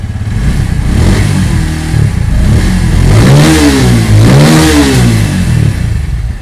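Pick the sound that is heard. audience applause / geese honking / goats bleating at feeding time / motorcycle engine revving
motorcycle engine revving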